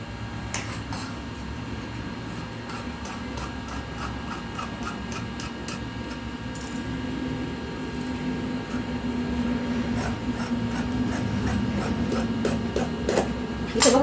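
Scissors cut through blouse fabric with repeated crisp snips and a soft rasping drag, close and moderately quiet, and no talk is heard.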